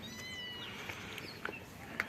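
Small rescued kittens meow faintly in a few thin, high calls near the start, followed by a couple of brief soft clicks over a quiet background.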